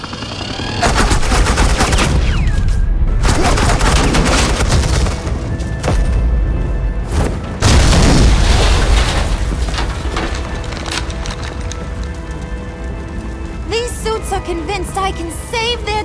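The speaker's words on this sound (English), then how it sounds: "suppressing fire." Gunfire and explosions ring out in the Batman: The Enemy Within video game, with loud rapid bursts of automatic fire and heavy booms during a suppressing-fire scene, tapering into ringing tones and softer effects toward the end.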